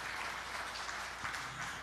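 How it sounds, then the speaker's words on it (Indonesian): Church congregation applauding during a sermon, a steady dense patter of clapping that holds at an even level throughout. "Tepuk tangan yang meriah bagi Tuhan Yesus."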